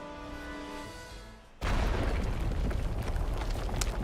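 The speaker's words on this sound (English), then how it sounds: "a massive explosion erupted from below, a blast like a storm tearing upward from the depth" A massive explosion sound effect in a story game scene: a quiet tonal background is cut by a sudden loud blast that rolls on as a thick, roaring rumble of debris, close and sustained.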